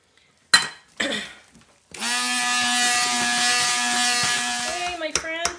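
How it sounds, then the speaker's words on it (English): A spatula scrapes around a pot of stick-blended hot process soap in a few short strokes, followed by a long steady mechanical whir with a strong hum, then a couple of final clatters. "So, okay, so I'm scraping down here so that this will cook also"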